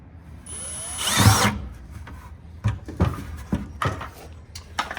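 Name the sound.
drilling into plastic bucket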